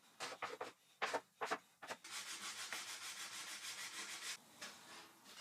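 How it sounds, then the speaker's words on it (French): A blade scraper drags across a salvaged wooden tabletop, first in several short separate rasping strokes, then in a long steady run of rapid scraping passes, close and moderately loud with no talk. "J'ai finalement utilisé un grattoir à lame pour enlever toutes les substances étranges"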